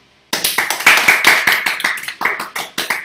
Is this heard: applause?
yes